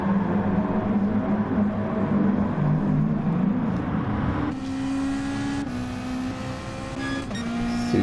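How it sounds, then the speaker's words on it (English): Saloon race cars in an Asian super saloon feature race scream down the main straight in a slipstream battle, a loud sustained engine drone with steady pitch that shifts as another car closes in. "Two drivers now trying to shake the slipstream down the main straights."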